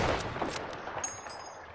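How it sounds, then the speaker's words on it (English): Gunfire bursts from a sniper rifle in a shooter video game firefight, several sharp broadband cracks in the first half-second followed by further distant shots, moderately loud with no talk. "Got sniper shooting at you"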